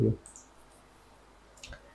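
A mouse click on a login button gives a short, sharp click near the end, preceded by a brief burst of speech at the start and faint background hiss.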